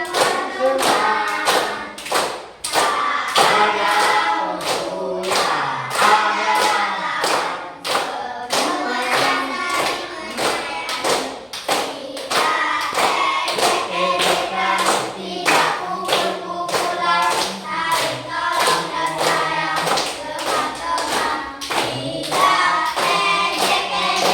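A class of schoolchildren claps hands together in a steady repeated rhythm, following a teacher's beat, with loud sharp claps over more than twenty seconds and voices chanting between them.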